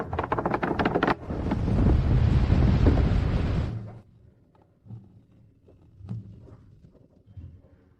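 A strong rushing gust fills a sailing ship's sails in a southeast wind, loud and steady for a few seconds, then breaks off sharply and leaves faint creaks and soft knocks.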